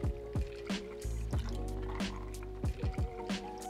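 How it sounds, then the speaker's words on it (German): A Bloody Mary cocktail mix is poured from a shaker into a glass, with gurgling, splashing liquid, a steady pour broken by drips and plops, close and fairly quiet, with no talk. "Jetzt gießen wir das alles in unser Glas hinein."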